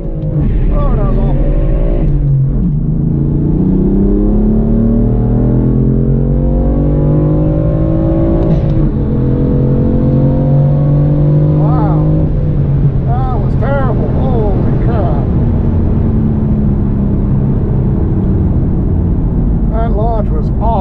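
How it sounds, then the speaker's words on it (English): BMW M4 launching at a dragstrip, its engine revving hard and climbing through the gears with rising, loud in-car drone and shift breaks, while someone talks over the noise. "I'm gonna break my car launching like that again."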